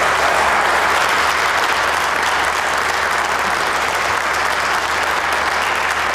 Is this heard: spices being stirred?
no